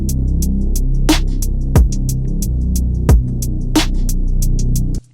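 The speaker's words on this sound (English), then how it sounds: "And then next up, I layered in a bass that sounds like this." Bass synth layer of a pop song, a deep, sustained low tone that holds steady and shifts pitch, with drum hits punching through at intervals. The sound is loud and continuous, then cuts off at the end.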